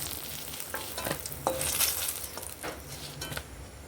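Brinjal slices fry in oil in a pan, giving a steady close sizzle with several stirring scrapes and light spatula knocks over a few seconds, no voices.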